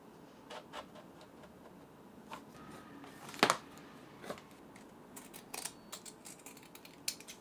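Quiet snips and crisp slicing of scissors through fabric, scattered irregularly with one louder cut midway and soft rustling between.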